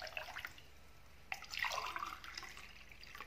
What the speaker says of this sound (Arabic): البنات نعبروا الماء تاعنا كما قلت لكم عندنا 4 كيسان ماء.